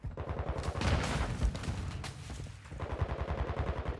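Call of Duty: Modern Warfare II ranked multiplayer gunfire: loud, dense bursts of rapid automatic fire that run almost without pause, with a brief lull in the middle before the shooting resumes.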